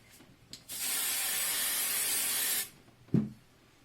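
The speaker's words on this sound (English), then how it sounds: "so I'm glue basting it." Spray glue hissing from an aerosol can onto sew-in foam for a shoulder bag, one steady burst of about two seconds, close and clear, with small handling knocks before and after.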